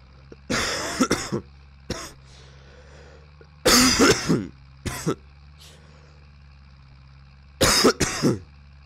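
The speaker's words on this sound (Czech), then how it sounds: "omlouvám za to, že kašlu" Three separate bursts of harsh coughing, each a quick cluster of hacks, with a Zetor 7745 tractor engine idling low and steadily in the background between them.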